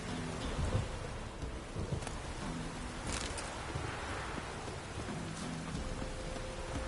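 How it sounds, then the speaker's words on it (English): A storm in The Witcher 3, with steady rain pattering on surfaces and low rolling thunder beneath it. The rain holds at an even, moderate level throughout, with no voices. "get me out of this storm"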